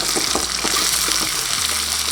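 Ingredients for mutton biryani, with tomato and curry leaves, sizzle and fry steadily in a hot pan, close and fairly loud, with the occasional scrape of a stirring spoon and no talk.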